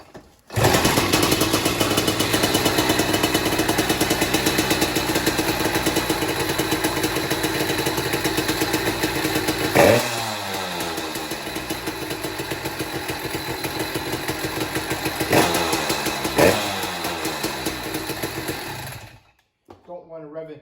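A cold two-stroke motorized bike engine fires up without choke and runs in a steady, loud, buzzy idle for about twenty seconds, with a couple of brief blips of throttle before cutting off.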